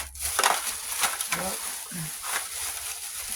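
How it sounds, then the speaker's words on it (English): Glass being smashed: a run of sharp crunching, splintering impacts under loud, noisy background hiss, with several bursts across a few seconds. "Broke glass."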